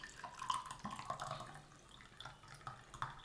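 Tea is poured through a strainer in a soft, close trickle with light drips and small splashes of liquid, faint and brief, with no talking.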